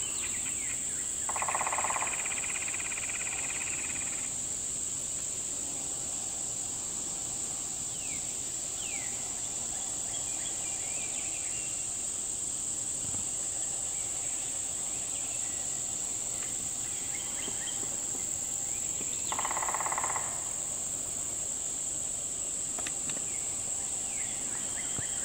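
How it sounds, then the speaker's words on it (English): Eastern Texas wilderness in the Big Thicket, where a steady high chorus of crickets and insects fills the air, with a couple of brief louder calls and faint distant bird chirps beneath. "I just had to stop a moment and take in the noises of the Eastern Texas wilderness."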